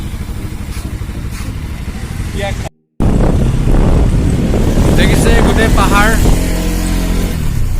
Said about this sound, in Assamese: পাহাৰৰ ওপৰেদি আমি উঠি আহিছোঁ বাইক চলাই।